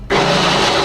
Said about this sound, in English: And all of that into a blender or a food processor, whatever you've got.